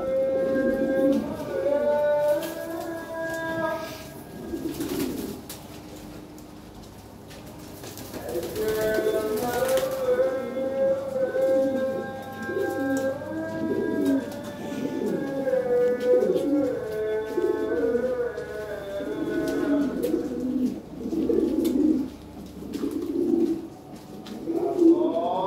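Lahore Siraji pigeons, a flock kept for sale, coo steadily and repeatedly at close range in throaty, rolling calls that overlap through the whole stretch.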